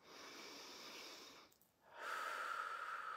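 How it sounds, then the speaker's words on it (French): A slow, deep breath is drawn in through the nose, soft and close, during a guided breathing exercise. A faint airy rush gives way to a brief pause before the next audible breath. "Inspiration par le nez."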